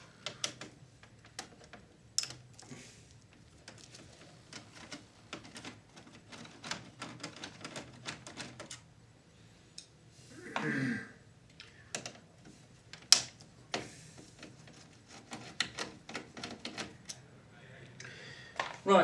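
Screws being removed from a Sharp VC-381H video recorder, with faint, scattered metallic clicks and small scraping taps from the screwdriver and casing, quiet and close, plus a brief murmur of speech.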